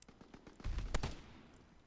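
Rapid bursts of M1 Garand rifle fire in a Call of Duty Search and Destroy match, a few sharp shots peaking mid-clip over softer background gunfire.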